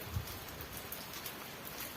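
Heavy downpour in rural Gujarat farmland, a dense, continuous hiss of rain hitting surfaces, steady and loud from start to finish with no voices.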